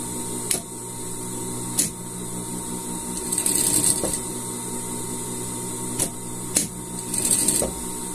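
Sewing machine stitching fabric for a pet poncho set, a steady mechanical hum with a high whine, broken by sharp clacks and short bursts of faster stitching, close and alone.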